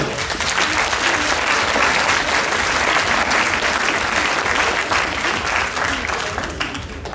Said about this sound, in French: Je crois qu'on peut l'applaudir.